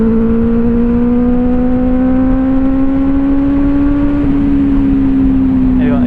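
A powerful BMW motorcycle engine, a model since discontinued and replaced by the 1250 RS, runs with a loud, steady hum whose pitch rises slowly before dropping slightly, close to the listener.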